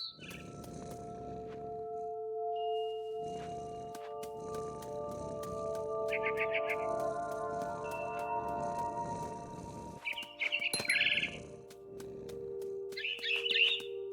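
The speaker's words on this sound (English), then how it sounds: "All I cared about was eating that mama bird" Short bursts of bird chirps and tweets from a mama bird in the game What Remains of Edith Finch, heard in scattered clusters over a steady ambient tone and soft rumbling background.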